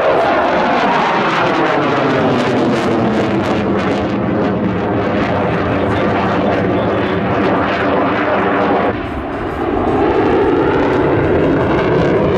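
Saab Gripen jet fighter at an air show in Malacky, Slovakia, a loud roaring engine pass with a sweeping, Doppler-shifting pitch, close and powerful throughout.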